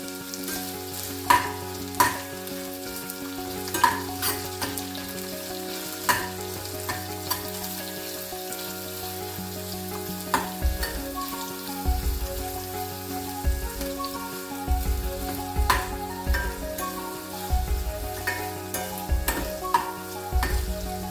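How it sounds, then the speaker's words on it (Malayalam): Long-sliced onion frying in a pan with small pieces of ginger, a continuous sizzle broken by repeated scraping and knocking as a spoon stirs, close and fairly loud over soft background music, with no talk. "ഇനി ഇതിലേക്ക് ഒരു സവാള നീളത്തിന് അരിഞ്ഞ് ചേർക്കുക."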